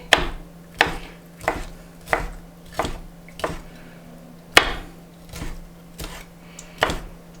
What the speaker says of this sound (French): on va prendre les crevettes, on va venir avec le couteau déjà un petit peu les couper.